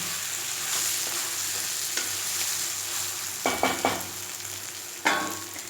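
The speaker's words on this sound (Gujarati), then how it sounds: "આપણે ઢોકળા અંદર એડ કરી દઈશું. અને બરાબર મિક્સ કરી દઈશું." Dhokla pieces get tossed into a sizzling tempering in a multi kadai, a low steady sizzle broken by a few soft scrapes and stirring knocks near the end.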